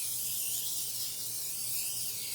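Extra virgin olive oil cooking spray hisses lightly from a can onto a dish for meatballs, one continuous, fairly faint airy spray lasting a couple of seconds, heard on its own without talk.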